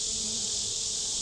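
Honey bees in a small swarm hive during a first inspection make a brief, steady buzzing drone, close and even throughout with no talk.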